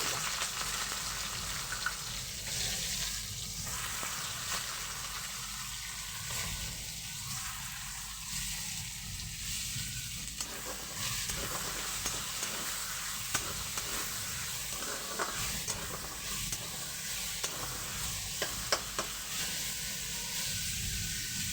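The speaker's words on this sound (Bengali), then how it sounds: "পেঁয়াজটা খুব ভালোভাবে ভাজা হবে" Chopped onion fries in a pan while cooking shrimp with poppy seed paste, making a steady close sizzle with faint stirring scrapes and no talk.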